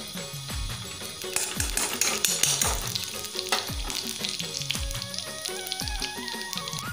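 Ghee heats in a kadhai on a gas stove with a soft, steady sizzle, while a metal spoon clinks against the pan in repeated close strikes.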